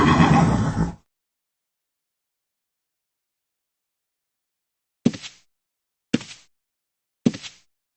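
A saddle horse in the Ultima Online video game gives a loud, full whinny as it dies, then silence, followed by three short, evenly spaced clip-clop thuds.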